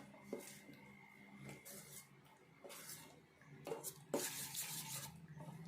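A spoon stirs rava, curd and moong dal batter in a bowl, making soft intermittent scraping and clinking strokes at a close but quiet level, with a few stronger bursts toward the end.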